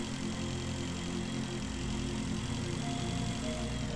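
Steady engine drone of a motorbike in the Breathedge space-survival video game, a continuous mid-low hum running unbroken and fairly loud throughout, with a faint high tone entering near the end.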